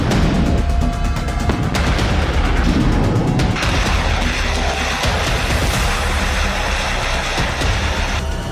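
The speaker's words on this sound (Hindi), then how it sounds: "कीव पर धुआंधार मिसाइलें बरस रही हैं" Missile strikes and explosions over Kyiv during the Russia-Ukraine war: a loud, continuous barrage of deep booms and rumbling blasts with crackling debris, dense and overlapping throughout, with no speech.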